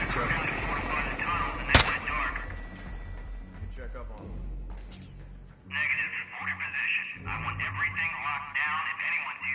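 Gunfire from Call of Duty Modern Warfare 2, with one sharp, loud shot standing out early over a busy game soundscape, followed by quieter stretches and dialogue-like voices later on.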